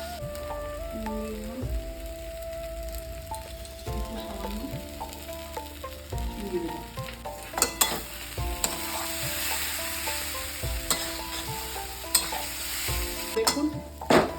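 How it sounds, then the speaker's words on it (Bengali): Green jackfruit kofta masala stirred and sautéed dry in a pan, a steady sizzle with a spoon scraping and tapping against the pan, close, under a continuous tonal background hum, no talk. "মশলাটার সঙ্গে ভালোভাবে কষিয়ে নিতে হবে, একদম শুকনো করে কষিয়ে নিতে হবে।"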